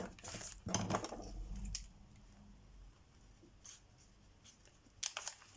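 Paper being cut for a handmade card booklet: a few short, crisp snips close by, separated by quiet pauses, with no talking.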